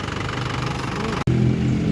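A car engine runs at a steady idle after the battery terminal was fixed, a close, continuous low rumble with one abrupt momentary dropout before it carries on.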